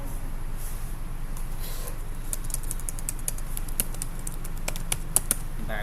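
Quick, irregular clicks of typing on a computer keyboard, fairly close, over a steady low hum with no talk.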